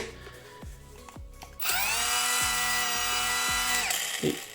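A mini angle grinder bought from AliExpress, powered by a screwdriver's battery, spins up with a sharp high whine and holds a steady buzzing run for a couple of seconds before winding down, preceded by a few light clicks and knocks.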